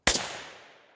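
A single sharp crack from a Savage Model 93G .22 Magnum bolt-action rifle fired outdoors, loud and close, followed by a fading echo tail; no voices.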